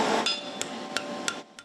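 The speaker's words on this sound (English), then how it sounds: "Before a student pounds a hammer, they have to hit the books." A hammer pounds a steel horseshoe at a horseshoeing school, five sharp metallic strikes in a fairly steady rhythm, close and clear with ringing tones between blows and no talk.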